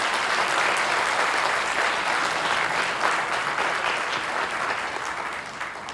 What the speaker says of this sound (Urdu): میں چاہتا ہوں ان کے لیے بھی آپ لوگ تالیاں بجائیں